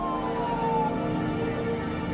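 An ambulance siren wails steadily as the vehicle pulls away after a road accident, its tone sliding across a sustained, moderately loud wail over low rumbling traffic noise.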